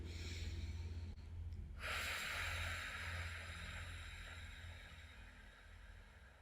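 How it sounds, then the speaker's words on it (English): Slow deep breathing during a guided relaxation meditation, with a soft, near inhale that swells into a long, steady breathy exhale and no talk. "taking a few deep breaths"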